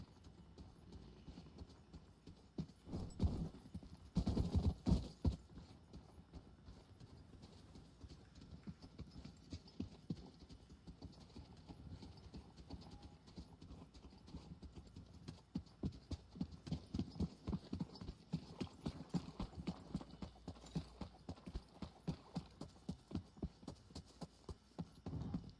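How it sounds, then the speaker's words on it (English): Extra footsteps sound in The Cycle shooter game as a faint, steady, rhythmic patter of steps that grows more regular toward the end, under a low background hum with no talk. "Like extra footsteps, that wasn't ours."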